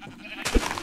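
A single short sheep bleat from a Minecraft-style video game, heard close and fairly soft over a quiet background.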